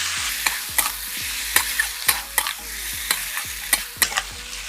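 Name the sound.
stirring potatoes with spices, fried tomato and onion in pan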